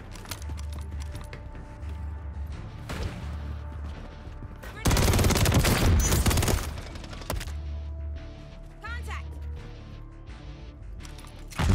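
Gunfire in Modern Warfare 3, an intense burst of rapid automatic shots roughly midway, with lighter shots and a low rhythmic rumble around it; the fight is loud and busy throughout.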